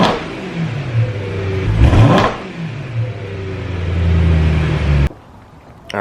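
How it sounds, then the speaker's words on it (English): BMW M3 on its stock exhaust, idling close by, then one sharp rev that rises and falls back to a subdued idle before cutting out abruptly. "I'm going to go ahead and do a quick stock revs just to give you an idea how quiet it is"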